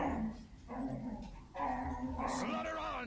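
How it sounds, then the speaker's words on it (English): Dogs in a video game bark, yip and whimper in three loud, close bursts separated by short gaps, with game sounds and a voice talking underneath. "Your dogs are crazy. I'm getting scared of your dogs, man."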